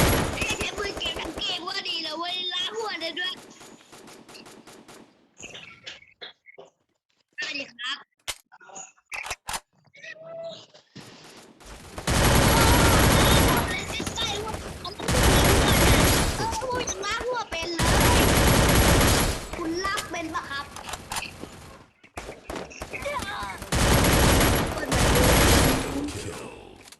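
Gunfire rattles in the Free Fire video game, with loud rapid automatic bursts repeating in long stretches. Speech comes in between the bursts.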